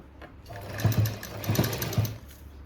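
A sewing machine stitches a blouse in short bursts, three or four quick rattling runs of needle strokes separated by brief pauses, close and clear with no talking.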